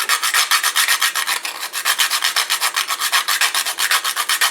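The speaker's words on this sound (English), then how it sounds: "I'm going to use the whole nutmeg, but I'm going to grate it into the pot" Whole nutmeg grated by hand over a pot for oatmeal porridge: a close, loud, steady rasping rhythm of quick back-and-forth strokes, about five or six per second, with no voices.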